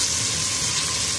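Onions sizzle and fry steadily in a pan for aloo gosht, a continuous close, moderately loud hiss with no talking over it.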